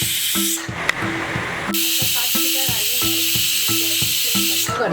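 A pressure cooker on high flame cooking taro leaf curry, sending out a loud continuous steam hiss and whistle. A repeating tonal melody plays under it, and the hiss stops and restarts partway through.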